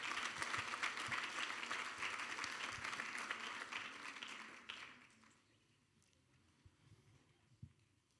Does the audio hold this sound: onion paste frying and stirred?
no